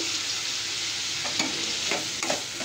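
Onion and tomato sauté together with rock salt in a pan: a constant close hiss of frying, punctuated by three or four quick stirring scrapes toward the end, no speech.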